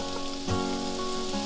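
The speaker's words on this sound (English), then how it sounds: "add in a couple of tablespoons of olive oil and add in our 2 carrots diced, our 1 celery stalk diced" Diced carrots and celery fry in olive oil in a pan with a soft, even sizzle and a faint steady hum underneath.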